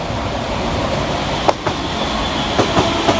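A ScotRail class 385 express train pulls into Edinburgh Haymarket station, its continuous rolling rumble broken by sharp clickety-clack wheel beats over rail joints, close and fairly loud with no voices.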